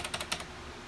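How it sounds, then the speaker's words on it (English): A computer keyboard being typed on gives a quick run of a few close, crisp key clicks in the first half second, then a faint room hiss. "kind of make my way around Windows with a keyboard."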